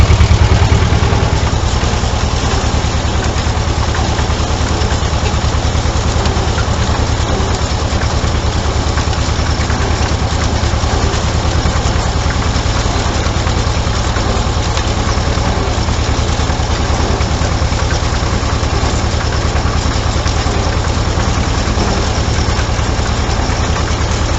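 A tractor engine idles steadily at 1200 rpm, a fast, even rumble, loud and close, with no voices or changes in pace throughout.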